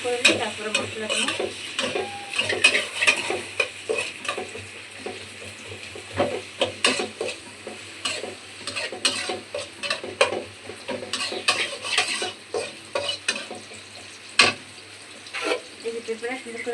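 Onions frying in hot oil in a wok, stirred throughout: a continuous sizzle with frequent scraping and clattering spatula strokes against the metal, close up and lively, with occasional faint background sounds.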